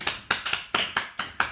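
Seven sharp, distinct hand claps in a quick, slightly uneven rhythm, close and moderately loud, with no voices over them.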